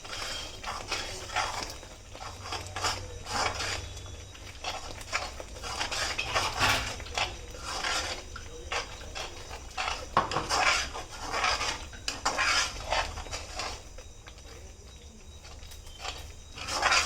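A thick paste for Hyderabadi bagara baingan is mixed in a pan with a spoon, making repeated close scraping clinks and clatters of metal against the pan in an uneven, busy rhythm with no talking.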